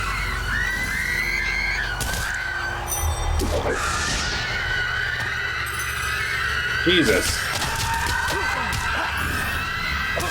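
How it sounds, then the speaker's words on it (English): Screaming in the Fable video game: shrill, wavering cries and squeals rise and fall over a constant droning background, with someone talking over parts of it. "Guess Jack wasn't kidding about all that screaming."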